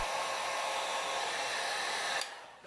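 A heat gun blows steadily to soften the adhesive on an iPhone XR screen before prying, a constant close airy whoosh that cuts off near the end and leaves a quieter tail.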